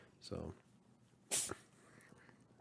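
A person sneezes once, a sharp, close burst after a short breathy sound, with brief speech nearby.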